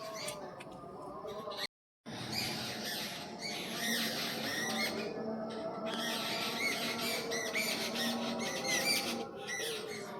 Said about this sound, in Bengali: সেটা হচ্ছে এই পাখিদের আওয়াজ